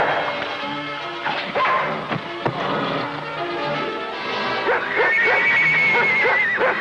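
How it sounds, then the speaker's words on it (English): Horses neighing and whinnying in a Western TV episode, shrill repeated calls rising over a dog barking nearby, busy and fairly loud throughout with a long high whinny near the end. "That dog is spooking the horses."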